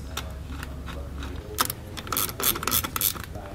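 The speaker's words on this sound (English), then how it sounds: "you can go back with your ratchet and finish snugging it down afterwards" A hand ratchet with an 8mm socket snugging down nuts on a trailer wiring junction box gives quick, close mechanical clicking in irregular bursts, growing louder toward the end, with no talking.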